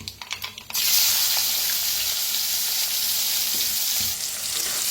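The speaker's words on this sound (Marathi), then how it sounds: "कांदा आता भाजून घेऊया चांगला" Chopped onion drops into hot oil with asafoetida in a pan, bursting into a loud, steady close-up sizzle after a few soft clatters, holding strong to the end with no voices.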